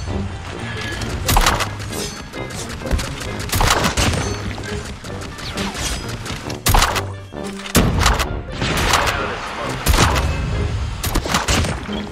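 Gunfire from Call of Duty Mobile battle royale gameplay, a dense run of loud rapid shots and thuds in bursts, with a brief lull mid-clip before firing resumes.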